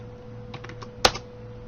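Clicks and keystrokes on a computer mouse and keyboard, entering a dimension value in Autodesk Inventor CAD software: a few soft taps, then one sharper, louder click near the end, all close and with no talk, over a steady electrical hum.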